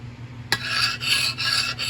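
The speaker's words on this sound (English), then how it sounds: "Hear that squeal? That's like running a file across a hardened surface. It skips rather than cuts." A sheet metal paint scraper skips and squeals across the hardened iron surface of a Ford 8N tractor engine, a sudden scrape followed by a sustained harsh rasp in a few pulses, close and loud.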